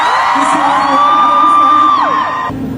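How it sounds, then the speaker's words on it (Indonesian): A concert crowd shouts and cheers loudly and continuously, with high whoops and yells sustained close around, ending in a brief drop. "Teriakan kalian kedengeran banget di telinga aku."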